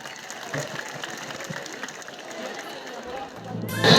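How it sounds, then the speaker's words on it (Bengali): Students at a school tribute gathering for martyrs applaud together in a dense, crackling clatter mixed with crowd voices, swelling louder toward the end. "সবাই তার জন্য একটু জোরে করতালি দিবেন।"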